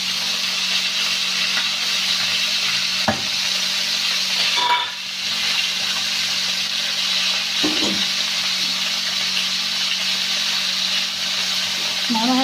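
Cut pieces of steak cook in a pan with a steady, close hiss and sizzle, broken by a couple of soft utensil knocks.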